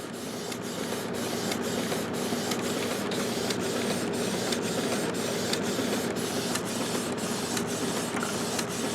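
A Canon Pixma MG7720 inkjet printer running on a continuous ink tank refill system prints a page, giving a steady mechanical whir with regular, evenly spaced clicks as the print head carriage shuttles back and forth.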